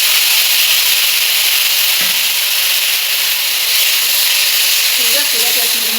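Tamarind juice is added to a hot pan, and a loud, even sizzling hiss fills the whole stretch, with a faint knock of a utensil near the two-second mark.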